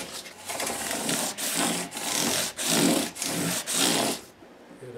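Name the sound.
rubbing walnut wood with polishing paper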